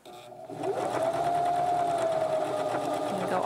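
A sewing machine runs a continuous line of stitching around a lined zipper pouch, its motor whirring at a steady, even speed after a brief start-up.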